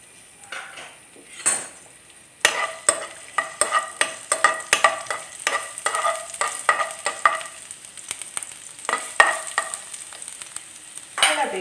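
Ginger frying in coconut oil in a pan gives a steady close sizzle, joined by rapid, repeated clinks and scrapes of a spoon stirring against the metal after a quieter start.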